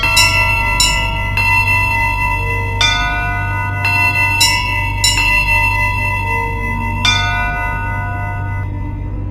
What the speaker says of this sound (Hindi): महल के बीचों बीच लगी विशाल घंटी अपने आप बजने लगी